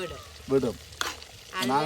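Soft sizzling and crackling of fish frying in hot oil, faint and close, with brief bursts of louder spattering.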